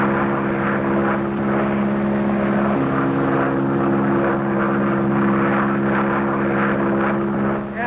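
A propeller airplane drones steadily overhead, loud and continuous throughout with a constant engine tone and no voices.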